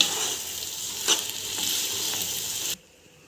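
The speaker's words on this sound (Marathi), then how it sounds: "खरपूस भाजून घ्यायचे हे" Rice roasting in a pan for mutton biryani gives a steady hissing sizzle with a few soft stirring scrapes, close and moderately loud, stopping abruptly near the end with no talk.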